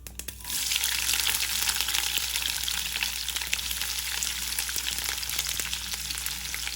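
Sliced onions dropped into hot oil with mustard seeds burst into a loud, dense sizzle after a brief quiet start, then keep crackling steadily up close with occasional stirring clicks.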